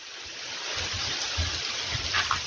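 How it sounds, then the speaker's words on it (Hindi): A waterfall at a secluded hillside spot near Gaya gives a faint, steady hiss of falling water, heard from a distance with slight low rumbles and no talk. "और यहीं पे ये झरना है"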